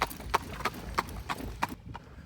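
Horse hooves clip-clop steadily on a road as Mennonite buggies pass on a morning church day, about six evenly spaced, fairly close strikes before the sound drops away.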